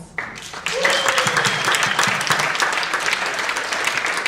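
A round of applause at a panel and closing session, with the clapping rising sharply after a brief pause and continuing steadily while a voice speaks over it early on.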